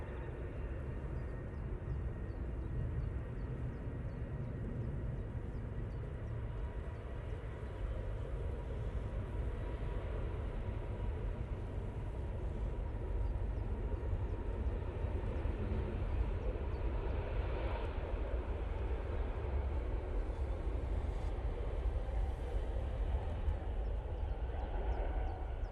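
An Aegean Airlines jet rolling for takeoff to Athens from Manchester Airport gives a faint, distant, continuous low engine rumble and hiss, steady across the whole stretch with no talk.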